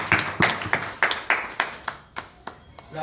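A crowd claps in unison at an evangelical church gathering hailing Jesus Christ of Nazareth, a steady rhythm of about ten sharp, fairly close claps that thin out and soften toward the end.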